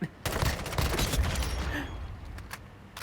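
Gunfire in the mobile shooter Warzone Mobile, a busy stretch of rapid shots and bursts layered together, loud and close, with game sounds mixed in throughout.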